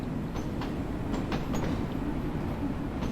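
A Bakerloo line Underground train in the Train Sim World 2 game passes in the opposite direction, a steady low rumble of wheels on track with faint repeated rail clicks throughout.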